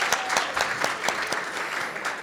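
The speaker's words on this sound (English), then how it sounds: "Yes, we'll applaud that." A housing event audience claps briefly, with a short burst of distinct, somewhat sparse hand claps at moderate volume.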